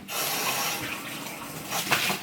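Espresso shots pour into a ceramic Valentine's mug, a short continuous liquid splash that swells and fades with a few brighter spatters near the end, heard alone.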